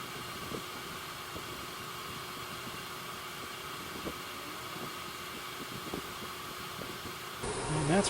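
A Champion portable generator engine runs steadily at a low, fairly quiet level, a constant hum and whir throughout, with a brief louder shift near the end.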